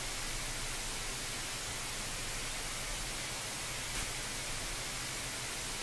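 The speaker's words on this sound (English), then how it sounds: "TV just randomly turns on." TV static white noise from a television switching on in a Minecraft horror map game, a constant, even hiss with a faint low hum underneath, unchanging and fairly quiet, no talking.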